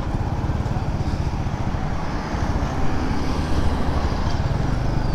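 A new 2023 Honda CD-70 motorcycle idles steadily with a low, even engine putter, recorded close up with faint traffic-like noise around it and no talking.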